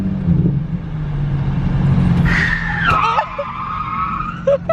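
A Nissan 350Z, fitted with a hydraulic hand brake, swings through a U-turn with engine rumble building, then a sharp tire squeal and skid that warbles and fades, followed by short chirps near the end.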